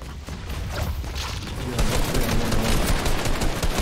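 Rapid bursts of gunfire crackle through a Fortnite match, dense and loud, growing heavier midway while voices talk over the shooting.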